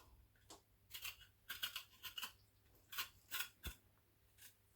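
Sharp knife cuts through fresh ginger and turmeric roots, giving a run of irregular crisp slicing and snapping sounds, close and moderately loud, with no talking.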